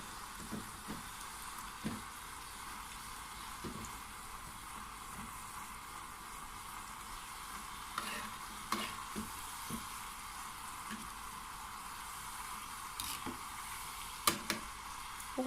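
Pieces of Moroccan sweet dough (halwat lghoraf) fry in hot oil while being stirred, a steady close sizzle broken by occasional soft taps and clicks of the stirring, with no voices.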